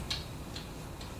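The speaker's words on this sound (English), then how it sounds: "can the hi-hat play like kind of light, crisp quarter notes on the hi-hat" Three light, crisp hi-hat ticks as quarter notes, evenly spaced about half a second apart, from a jazz ensemble rehearsal, sitting alone over a low background hum.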